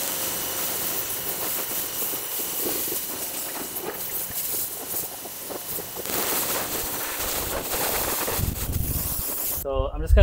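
A water spray rinses soap foam off a Toyota Tacoma, a steady hissing wash of spray that shifts as the stream moves across the truck, with someone talking over it.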